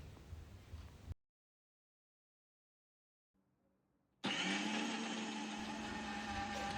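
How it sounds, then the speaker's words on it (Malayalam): A small mixer jar grinds grated coconut, a green chilli, turmeric powder, salt and pieces of mango into a paste for a prawn mango curry, a loud steady whirring drone that starts abruptly after a short burst and pause. "ഒരു ചെറിയ ജാറിലേക്ക് അരമുറി ചിരകിയ തേങ്ങയും, ഒരു പച്ചമുളകും, അര ടീസ്പൂൺ മഞ്ഞൾപ്പൊടിയും, ആവശ്യത്തിന് ഉപ്പ്, പിന്നെ 3 കഷ്ണം മാങ്ങയും ഇട്ട് നന്നായി അരച്ചെടുക്കുക"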